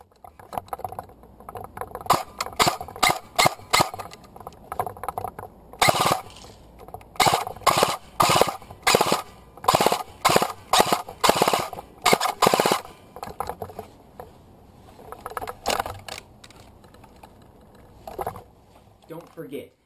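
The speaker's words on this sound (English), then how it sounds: "the following video is just to give you an idea of how my gun sounds" A G&G HK 416 airsoft gun fitted with a tracer unit fires in repeated short bursts of rapid mechanical cracks, loud and close, with gaps of quiet between volleys.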